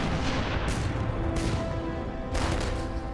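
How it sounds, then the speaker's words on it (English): Battleship guns shelling islands during the 1942 Guadalcanal and Tulagi landings, heard as a dense, continuous rumble of distant artillery with heavier booms rolling through. "US battleships start shelling the islands of Guadalcanal and neighboring Tulagi."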